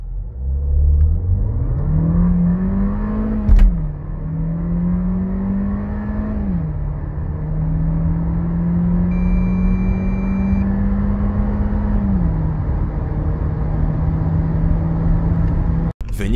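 Skoda Karoq 1.5 TSI with DSG gearbox accelerating hard from standstill to 100 km/h, the engine note climbing steadily through several gear changes with brief dips, loud and sustained from inside the car.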